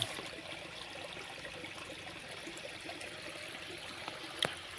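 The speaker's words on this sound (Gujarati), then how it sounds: "જો અહીંયા થઈને પાણી જાય છે." Floodwater rushes steadily through a channel in an Aravalli village, a continuous close hiss of flowing water with a single brief knock near the end.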